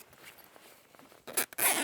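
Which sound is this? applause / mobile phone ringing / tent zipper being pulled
tent zipper being pulled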